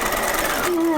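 A sewing machine stitches along the bottom of a jacket seam in a short, quick burst of mechanical whirring, and a voice talks over it.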